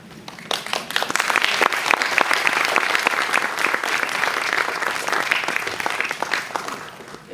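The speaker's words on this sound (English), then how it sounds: "Extra round of applause for that." An audience at an awards ceremony for high school students breaks into warm, sustained applause, many hands clapping together in a full, even roar that swells and holds for several seconds.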